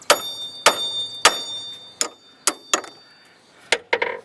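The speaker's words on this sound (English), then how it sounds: "I'll take a hammer and hit it on the bottom right here." A hammer strikes the bottom of a 1995-and-up Dodge Neon front ball joint during strut replacement, with about nine sharp metallic blows at uneven intervals, each ringing briefly up close.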